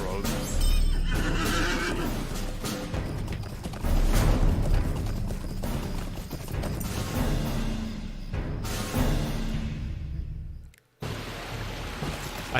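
A horse in The Lord of the Rings Online neighs and clip-clops along a long road with steady hoofbeats, under continuous game noise that cuts out briefly near the end.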